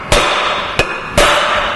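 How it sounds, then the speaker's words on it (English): Three sharp metallic hammer blows strike a drift while knocking out an old front pulley oil seal on a Land Rover Discovery 300 TDI, spaced irregularly, loud and close, with ringing tails and no talk. "We're now going to knock the old seal out with a drift and hammer"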